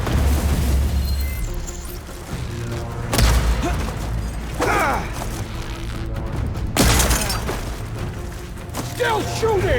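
Enemy gunfire in Horizon Forbidden West: heavy booms and bursts of shots hit repeatedly in irregular waves, loud and close, over a steady rumbling game backdrop.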